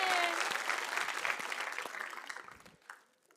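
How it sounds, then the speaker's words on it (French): An audience at a regional secondary-school talent show final bursts into loud, dense applause that thins and fades out over a few seconds. "applaudissez des mains le plus fort"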